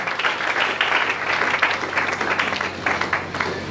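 A church congregation breaks into steady, dense applause that carries on without a break, with no speech over it.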